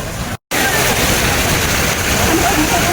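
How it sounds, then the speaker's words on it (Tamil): Water splashing and rushing in a fountain at KLCC in Kuala Lumpur, Malaysia, a steady broadband wash that fills the clip after a brief silent gap near the start. "இங்கே பார்த்தீங்களா தண்ணி."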